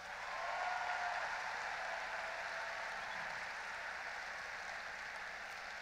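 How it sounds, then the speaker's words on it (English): An audience gives a sustained round of applause for former Woody Flowers Award winners at a robotics event, heard as a faint, steady wash of distant clapping throughout. "Give them a big round of applause."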